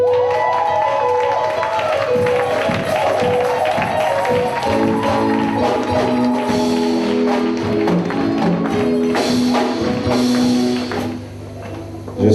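A church congregation acclaims a pastor with clapping and cheering, a busy crowd roar mixed with sustained tonal music or sung notes, loud and continuous throughout.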